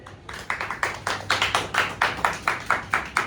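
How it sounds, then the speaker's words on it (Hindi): Loud, steady rhythmic clapping for a stage play performance, with around a dozen even, evenly spaced claps close to the listener and no talk. "उनके लिए जोरदार तालियां हो जाए"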